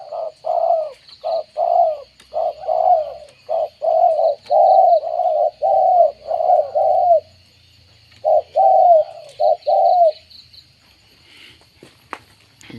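A dove coos in repeated rounded phrases, loud and close, pausing briefly partway, with faint footsteps and a high steady tone in the background.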